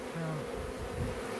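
A honeybee swarm buzzes steadily around a group of six hive boxes, a dense, continuous drone with a few individual bees droning close to the microphone.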